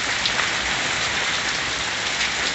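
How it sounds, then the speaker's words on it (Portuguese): Heavy rain pours steadily in Serra Talhada, in the Pernambuco backlands, a dense, loud hiss of drops striking surfaces all around, unbroken for the whole stretch. "chovendo de novo aqui em Serra Talhada"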